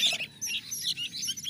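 Many sooty-headed bulbul chicks chirp and cheep busily together at close range, overlapping high peeping calls with a faint low hum beneath.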